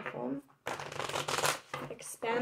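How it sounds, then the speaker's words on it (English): Tarot cards are shuffled close by in quick riffling bursts separated by brief pauses, crisp papery flutters and snaps. "Do one more shuffle."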